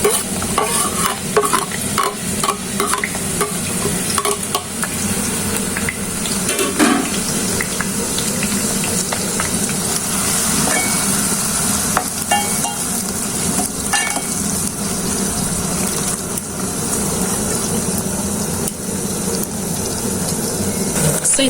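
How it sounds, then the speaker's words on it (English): Chopped onions deep frying in a pot of oil for mutton biryani in an African village kitchen, with a steady, dense bubbling sizzle throughout and occasional stirring clinks, no talking. "I'll add in my chopped onions and deep fry them until they're golden brown."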